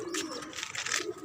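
Pigeons on a rooftop garden coo softly while eating, a low, faint murmuring coo repeated a couple of times in a short moment, with no talk.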